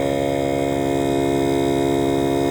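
A portable air compressor runs steadily off-road to fill the last tire on a Volkswagen Syncro, giving a loud, continuous mechanical hum with a pulsing low drone and no talk.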